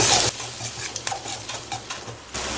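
Boiled black-eyed peas with turmeric are tossed in hot oil in a pan, a soft steady sizzle under repeated scraping stirs of a spatula, close and fairly loud after a brief noisy start.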